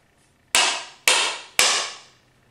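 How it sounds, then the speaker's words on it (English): Three sharp, loud hammer strikes on a chisel while removing a wood floor, evenly spaced about half a second apart, each ringing out and fading, with no speech. "Hammer and chisel."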